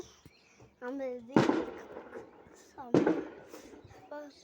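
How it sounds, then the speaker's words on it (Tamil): Two sharp firecracker bangs crack out a second or so apart, loud against a voice talking before, between and after them. "ஏதோ பட்டாசு சொல்லி கேட்குது."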